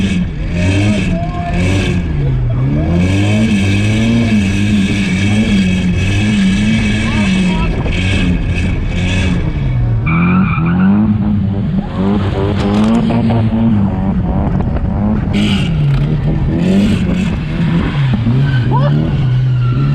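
A Nissan Silvia S15 drifting, its engine droning and revving loudly and steadily with surging pitch while tires squeal, close and continuous, with voices talking over it.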